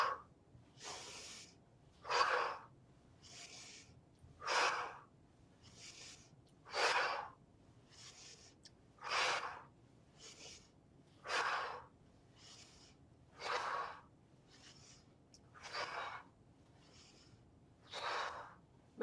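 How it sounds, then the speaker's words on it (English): Forceful mouth exhales during a qigong exercise for low back pain, a breathy whoosh repeated about every two seconds in a steady rhythm, close and fairly soft, with quieter inhales between. "to release that tightness, we'll do a mouth exhales as we come down."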